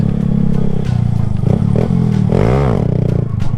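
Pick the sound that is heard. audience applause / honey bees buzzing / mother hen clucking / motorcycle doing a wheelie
motorcycle doing a wheelie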